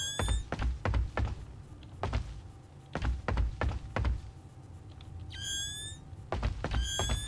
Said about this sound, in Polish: Dźwięk włączenia, wyłączenia latarki jest irytujący.